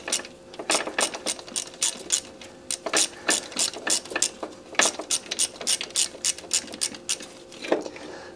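A ratchet loosening a bolt on a Honda engine, close and crisp, its clicks coming in quick repeated bursts of strokes with short pauses between them and no talk.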